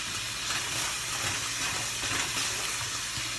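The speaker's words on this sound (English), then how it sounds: "now I'm going to add the green beans and saute them" Green beans sauteing in a skillet over medium-low heat after deglazing, a steady broadband sizzle and hiss that stays even throughout, close and moderately loud, with no speech.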